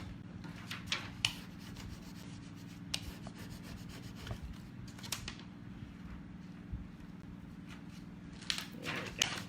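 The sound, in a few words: rubbing a transfer onto DIY flag with tool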